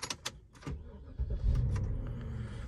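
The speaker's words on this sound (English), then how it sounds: "The Northstar V8 cranks up quite nicely and it sounds good." A 2009 Cadillac DTS with a Northstar V8 starts up: a few clicks and a short crank, then the engine catches and settles into a steady, close idle rumble.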